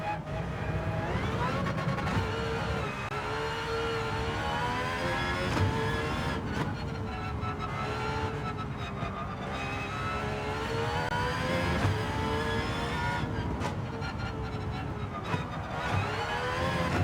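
A race car engine in Gran Turismo 7 lapping Monza holds a steady, loud, high-pitched drone for the whole stretch, its pitch rising and falling as it revs through gears with brief dips around shifts.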